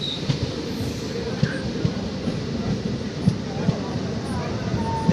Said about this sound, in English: The train is deaccelerating again for some reason.